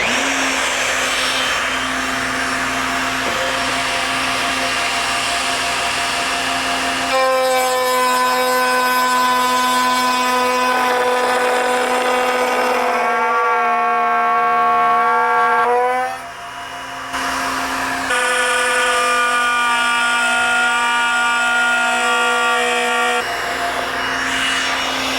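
A power tool runs with a steady, loud whine as expensive teak stock is fed through it; the pitch shifts as the cut starts and stops, with a brief dip near the middle.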